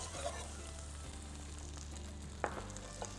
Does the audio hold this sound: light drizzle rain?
no